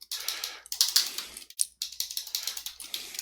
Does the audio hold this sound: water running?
no